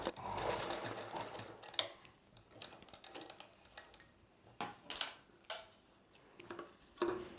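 A sewing machine stitches the side joint of a long blouse in short, quiet bursts of rapid ticking, separated by pauses and soft fabric handling.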